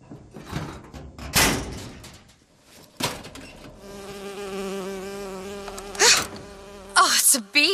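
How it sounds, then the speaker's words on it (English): A bee buzzes close by in a steady, droning hum that lasts several seconds, with bumps and clatter before it and sharp knocks near the end. "Oh, it's a bee."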